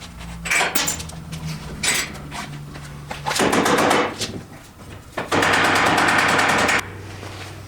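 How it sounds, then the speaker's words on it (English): Pneumatic air tools work on the suspension bushings of a 2018 Polaris RZR XP Turbo S, firing in loud rattling bursts of rapid impacts separated by metallic clanks and short pauses. "Nice to have air tools with this stuff."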